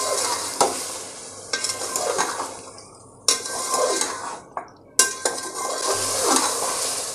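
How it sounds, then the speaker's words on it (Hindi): Yogurt and mutton stir-fried on a medium flame for mutton yakhni pulao, with rhythmic spoon scraping and clinks against the pot over a steady sizzle, up close with short pauses between strokes. "अब दही को भी हम 1 से 2 मिनट तक भून लेते हैं मीडियम फ्लेम पे।"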